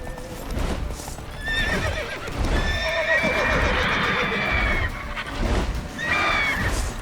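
A horse in The Witcher 3 gallops with rhythmic hoof clip-clops and lets out loud, close whinnies and neighs over the running.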